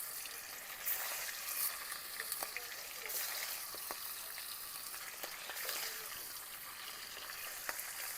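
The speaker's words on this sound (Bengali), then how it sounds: "মাছ ভাজার জন্য যেই তেলটা দিয়েছি এই তেলে মাছ ভেজে নেব" Fish frying in oil gives a faint, continuous hiss and sputter with scattered small pops, heard at a distance and fairly quiet throughout.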